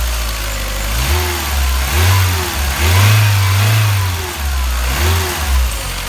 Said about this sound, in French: Je vais essayer d'accélérer un peu